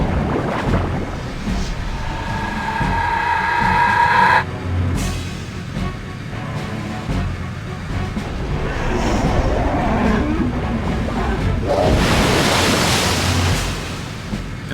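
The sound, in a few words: water summon spell effect in video game Septerra Core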